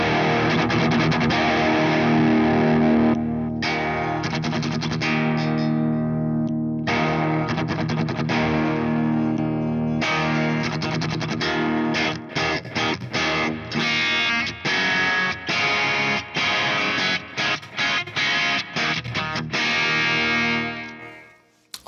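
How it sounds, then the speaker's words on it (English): Electric guitar through a Sonulab Stompstation pedal with compression and drive engaged, loud distorted chords ringing out, then choppy, rhythmic strums, with hiss rising underneath and no voice. "you can already hear a little bit the hiss going up"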